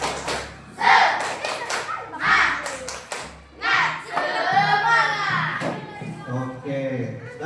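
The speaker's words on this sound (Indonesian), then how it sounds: "Tepuk semangat." Schoolchildren in an Indonesian classroom perform the rhythmic 'tepuk semangat' clapping chant, sung voices mixing with bursts of group claps in a patterned rhythm, loud and close, with a teacher's voice at the start.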